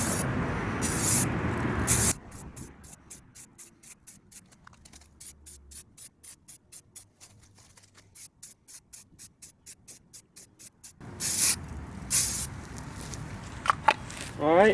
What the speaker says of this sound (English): Let's go get the spray can and whatever else